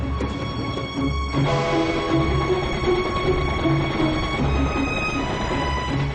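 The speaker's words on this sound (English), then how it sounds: "To get to Cairo, the train travels through the Nile Delta" Passenger train rolling through the farmland of the Nile Delta on the way to Cairo, with a steady low rumble and rhythmic clatter of the cars, plus a brief sharp knock near the start.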